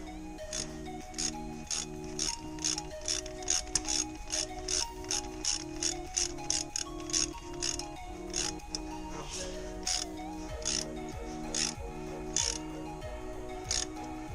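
A ratchet wrench tightening a nut on a Pinzgauer gear reduction starter during installation: a long, steady series of rapid metallic clicks in regular strokes with faint ringing, close and continuous, no talk.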